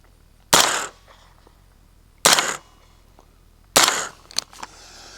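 Three subsonic gunshots fired through a JMac Customs Banka suppressor, each a sharp close crack with a short decaying tail, spaced about a second and a half apart, with faint mechanical clatter after the last.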